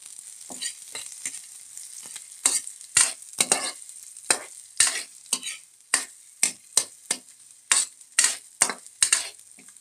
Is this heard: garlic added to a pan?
yes